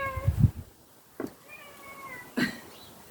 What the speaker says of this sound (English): While I just ignore yet another cat.